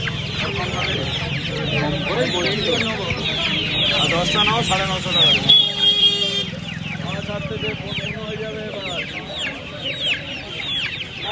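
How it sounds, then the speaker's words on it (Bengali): Silkie chickens cluck and squawk continuously at a busy poultry and pet market in Uluberia, close and fairly loud, with people talking over the birds throughout. "এখানে সিল্কি মুরগি দেখতে পাচ্ছেন"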